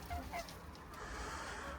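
Chickens in a coop, several ornamental birds around four months old, giving a few short soft clucks at the start over a faint steady background.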